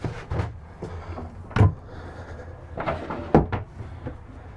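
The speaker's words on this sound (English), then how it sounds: "it actually squeegees the water off of this door as it retracts" Shower screen door in the bathroom of a 2021 Tiffin Wayfarer 25RW Class C RV retracting and squeegeeing water off its surface, heard as a series of soft scraping slides and light knocks spread over a few seconds.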